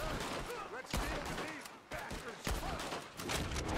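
Gunfire in the Red Dead Redemption 2 video game: three or four sharp shots spaced about a second apart, heard fairly faintly beneath ongoing speech and a busy, noisy background.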